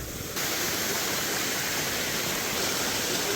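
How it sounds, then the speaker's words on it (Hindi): Heavy rainwater rushes along a mountain road during monsoon downpours, a loud, steady broadband roar of flowing water that continues unbroken and close by. "यहाँ तो पूरे रास्ते में भयंकर ही पानी आ रखा है।"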